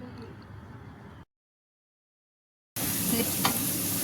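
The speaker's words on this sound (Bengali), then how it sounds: "পেঁয়াজটা ভালো মতো করে ভেজে নেব" Chopped onions fry in hot soybean oil, a dense sizzle with light scraping that cuts out to silence midway, then returns louder and brighter with a sharp tap near the end.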